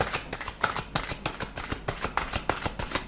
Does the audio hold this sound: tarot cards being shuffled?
yes